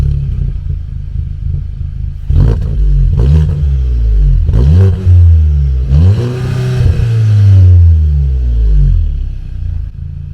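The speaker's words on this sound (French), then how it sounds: "on entend bien l'échappement correctement" A VW Golf 7 GTI engine starts and revs several times, its exhaust rising and falling in loud, close swells with a rumbling note and brief clatter between blips.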